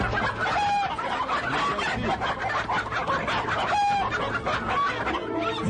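A large rooster clucks repeatedly and lets out short crowing calls outdoors among chickens, with busy overlapping fowl sounds close by and no talking.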